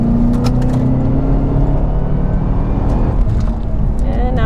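A car speeds up on a highway while passing a Cadillac Escalade, its engine note rising over steady road and wind roar throughout, with a voice talking over it.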